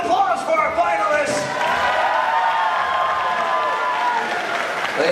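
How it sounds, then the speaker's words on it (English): Crowd applause and cheering at a live stunt show in Orlando, steady and fairly loud under the voices of people talking over it. "Round of applause for our finalists."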